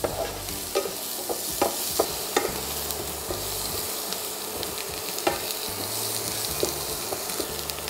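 Ground garlic powder browns in a frying pan, giving a continuous close sizzle broken by light regular clicks and scrapes of stirring; no voices are present.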